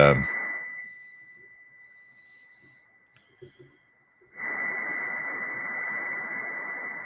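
Steady radio tones come in on upper sideband on a 144 MHz ham band: a constant whistle-like tone sits over hiss, fades to near silence with faint clicks, then returns with a louder noisy rush.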